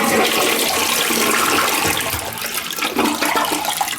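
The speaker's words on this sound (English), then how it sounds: "a pretty good flush" An American Standard toilet in a hotel room flushes loudly and close, with a strong rushing surge of water that carries through the whole stretch and then eases slightly toward the end.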